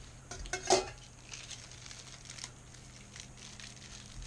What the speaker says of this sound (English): So that's what we've got, a fork, spoon, and knife.